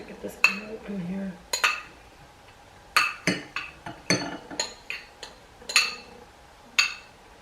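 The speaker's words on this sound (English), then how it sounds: "That's what the spoon was for, because I gotta get this out in here." A metal spoon scrapes and clinks against a container while scooping out Oreo cream filling for a microwave Oreo cake, making about a dozen sharp, close taps and scrapes in an uneven rhythm with no talking.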